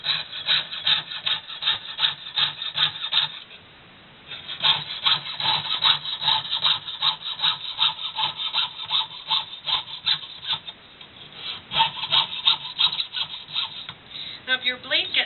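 A hand saw with a waxed blade cuts through copper pipe in steady, rasping back-and-forth strokes that run close and continuous, pausing briefly once before the rhythm resumes.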